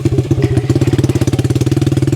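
A 1969 Honda CD90Z motorcycle ridden close by, its small single-cylinder engine throbbing in a steady, fast pulsing beat that quickens slightly, loud and alone with no voices.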